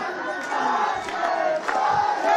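Football crowd at a Bhutan Premier League match cheering a goal in the rain, a surging roar of many distant voices with swells and shouts rising toward the end.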